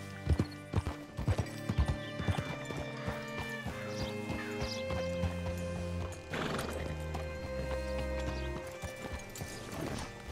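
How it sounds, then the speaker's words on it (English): Horse hooves clip-clop at a steady walk in Red Dead Redemption 2, with a whinny and some clattering and a sustained musical bed beneath, no talk. "Hitch your horse up here."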